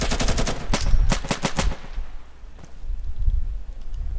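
Rapid bursts of automatic gunfire crackle loudly in a video game, one close rattling volley followed by quieter distant shots and rumbling.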